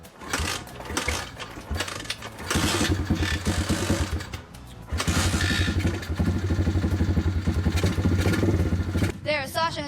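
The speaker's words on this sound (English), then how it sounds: "Okay, I'm starting it up." A motorcycle that had been standing unused for a long time, engine turning over and catching after a struggle, settling into a loud, steady idle close by, with people talking over it.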